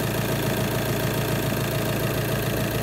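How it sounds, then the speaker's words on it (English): A diesel Audi A6 2.0 TDI idles just after a timing belt change, its tensioner running with the cover still off. The rumble and clatter are steady and even, close by and constant, with no talking. "I have started the engine to see how the tensioner works."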